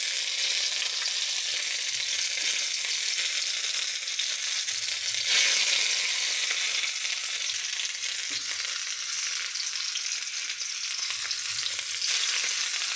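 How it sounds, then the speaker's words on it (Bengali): Battered stuffed pieces frying in hot oil in a wok over low heat, a dense, continuous bubbling sizzle, close and loud throughout with a brief surge midway. "কড়াইতে তেল গরম হয়ে গেছে, হালকা একটু নুন দেবো আর এই ব্যাটারগুলি সব বসায় দেবো"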